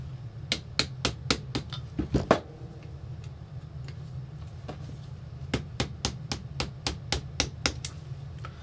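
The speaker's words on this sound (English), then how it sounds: "So let's use a punch and a hammer." Hammer tapping a punch to drive out pins while taking apart a Classic Army M14 EBR and G&G M14 HBA airsoft rifle, crisp metallic ticks in two bursts of evenly spaced strikes, close and clear with no talking.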